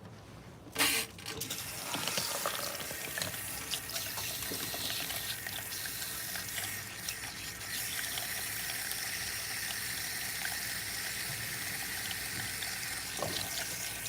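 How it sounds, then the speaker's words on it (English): Salon sink tap running steadily as water rinses a client's hair, a constant close rushing spray with slight splashing changes, lasting throughout with no voices. "All right, so we're gonna go ahead and rinse her."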